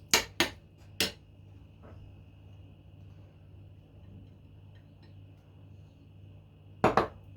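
A utensil knocks against a bowl while salted ingredients are stirred for an oven-baked rib dish with kasar cheese. A few sharp clinks come close together at the start, then a quiet pause, then another pair of clinks near the end.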